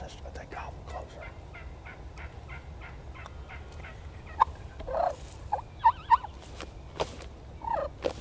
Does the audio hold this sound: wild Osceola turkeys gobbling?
yes